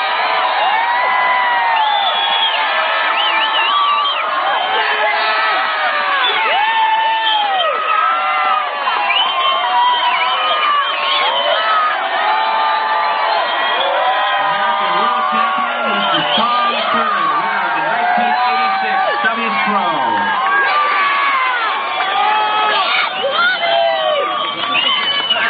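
A large crowd at a 1986 professional surfing contest prize presentation in Oceanside, California cheers, whoops and shouts loudly and continuously, a dense sustained roar of many voices throughout.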